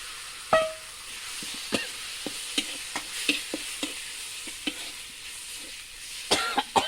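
Chicken and bamboo shoots are stir-fried in a pan, with a soft steady sizzle under repeated sharp spatula scrapes and knocks at an uneven rhythm, close by and without talk.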